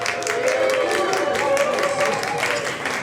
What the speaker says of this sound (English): Okay, so I'm gonna gauge this applause.